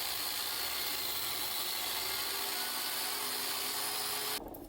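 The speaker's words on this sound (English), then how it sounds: "I then used a biscuit cutter to make a continuous slot for a spline that stopped short of each end." A biscuit cutter power tool cuts a continuous slot in wooden boat planking, a steady whining, buzzing drone that runs loud and unbroken for several seconds before cutting off near the end.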